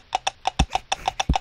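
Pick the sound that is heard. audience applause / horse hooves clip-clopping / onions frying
horse hooves clip-clopping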